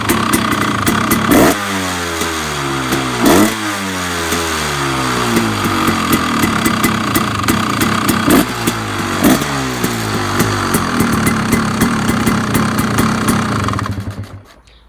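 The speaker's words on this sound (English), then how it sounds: "the tone of the exhaust is a little different" A 2014 KTM 300 XC-W two-stroke dirt bike with an FMF Turbinecore 2 aftermarket exhaust idles loudly with a raspy exhaust note, revving up a few times before cutting off at the end.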